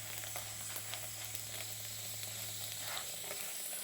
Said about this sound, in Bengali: এটা সেঁকে নেওয়ার পরেই তেলটা দেওয়া হচ্ছে।